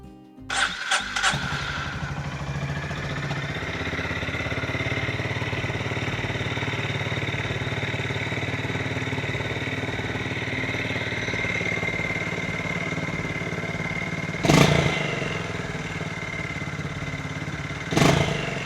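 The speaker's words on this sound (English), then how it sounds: "we will get in and just test the bike in terms of the sound as it is with the standard" A Honda GB350S single-cylinder motorcycle with its standard air filter cranks and fires, then settles into a steady, close thumping idle, with a couple of brief blips near the end.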